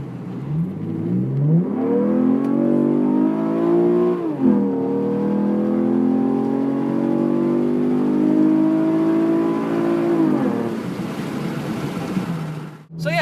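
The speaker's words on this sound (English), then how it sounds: "just so we could really rev it out, so you could hear it" A modified 2013 Chevrolet Camaro V6 revs hard on a highway, its engine note climbing steadily, dipping briefly at a gear change, then holding a loud sustained drone for several seconds before cutting off.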